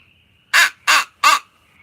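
A Quaker Boy crow call is blown three times in even succession, each a loud, raspy caw imitating a crow, clear and close over a faint steady background hum.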